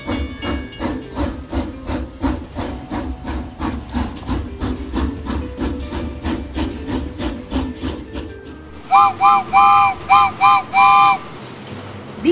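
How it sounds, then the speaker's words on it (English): A steam train chuffs in a steady, loud rhythm, then gives several sharp whistle blasts in quick succession. "The train is ready to depart now."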